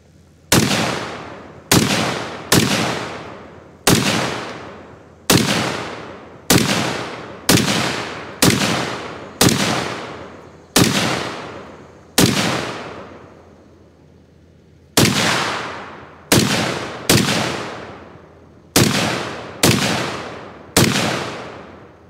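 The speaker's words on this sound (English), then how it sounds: "That's a beautiful gun to shoot." Pistol shots at an outdoor shooting range, loud and close, about twenty sharp reports with ringing decay, mostly spaced roughly a second apart, with one longer pause in the middle.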